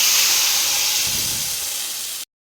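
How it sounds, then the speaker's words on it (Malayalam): A spice mixture dropped into hot oil with spluttering mustard seeds and dried chilli: a loud, steady sizzling hiss that fades slightly over two seconds and then cuts off abruptly. "അതൊന്ന് റെഡിയായി വരുമ്പോഴത്തേക്ക് അതിലേക്ക് ഈ കൂട്ട് ചേർത്ത് കൊടുക്കുവാണ്."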